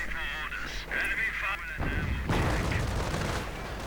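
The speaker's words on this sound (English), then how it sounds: "we do hear reports of flak weaponry being called in" Flak guns in the World War II strategy game Company of Heroes fire through a dense, continuous wash of battle noise, booming blasts layered with tonal honking effects and a faint voice underneath.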